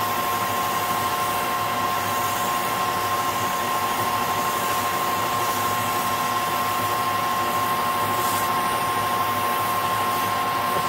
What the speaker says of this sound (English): I'm going to give this a quick polish with some emery